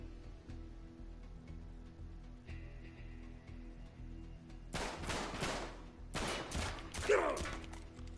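Bursts of gunfire in Uncharted 3, quiet at first and then two loud, dense volleys of rapid shots in the second half over low game background noise.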